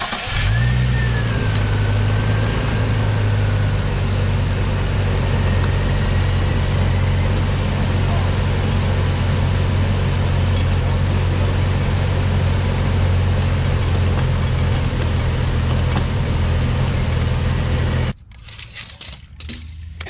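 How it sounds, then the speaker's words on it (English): A Nissan Skyline engine idles close by in a loud, steady, low rumble that runs unbroken for most of the stretch, then cuts off abruptly into quieter clatter near the end. "I'm gonna have to turn the motor on"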